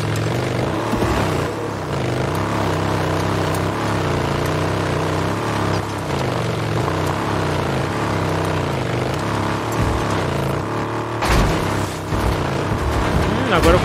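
A motorcycle ridden fast in the zombie game Days Gone, its engine droning steadily and loudly throughout with a brief surge near the end, while someone talks over it.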